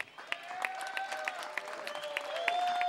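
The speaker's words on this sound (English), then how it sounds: "Let's give a big hand for Dee." An audience at an outdoor farm campaign event claps in a crowd, starting sparse and building into steady applause, with a few voices under it.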